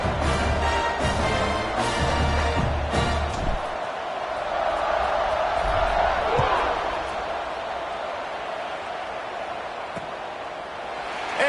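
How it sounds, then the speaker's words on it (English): Football stadium crowd at a Duke vs. Florida State game buzzing after a score, a broad steady roar that swells midway and then settles, with some hard knocks and commentary-like voices early on. "this crowd is buzzing after that last score"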